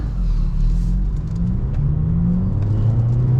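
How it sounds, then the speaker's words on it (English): A car engine pulls steadily at half throttle, its loud low rumble rising gradually in pitch as it accelerates, heard from inside the car. "So I'm just giving it like half throttle."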